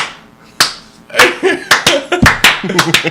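Several sharp hand claps ring out at an uneven, deliberate pace, mixed with brief vocal sounds and laughter nearby.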